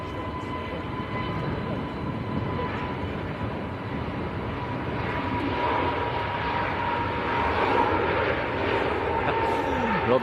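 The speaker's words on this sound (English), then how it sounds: "Aer Lingus' A320 is also taxiing out" Aer Lingus A320 airliner taxiing at Manchester Airport, a steady broadband jet engine roar with a faint sustained whine, moderately distant and continuous, voices talking faintly beneath it.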